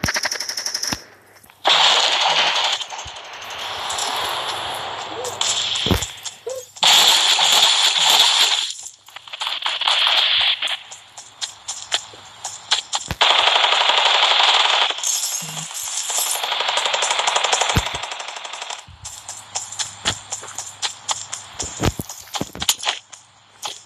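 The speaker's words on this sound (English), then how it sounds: "I get away from the gunfire before I get killed with no gun." Gunfire in Fortnite played on a Samsung Galaxy Note 8, with long bursts of rapid automatic shots, scattered single cracks and pauses between volleys across the whole stretch.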